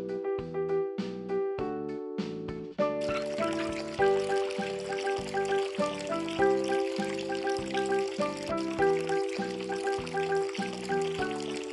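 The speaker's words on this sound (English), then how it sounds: "Turn on the hot water to rinse Leo." In a children's bath-time game, hot tap water pours to rinse Leo, a steady rushing flow that begins after a short musical intro and continues beneath cheerful background music.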